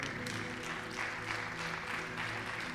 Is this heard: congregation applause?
yes